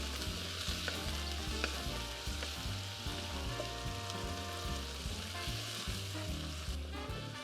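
Frozen peas fry in a pan for king prawn fried rice, giving a loud, continuous close sizzle with a crackling, rain-like texture and faint stirring, with no talking.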